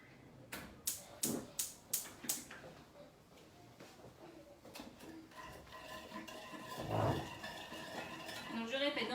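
A utensil scrapes and clinks rhythmically against a metal saucepan over high heat, about six quick strokes, then softer stirring with sizzling as voices talk in the background.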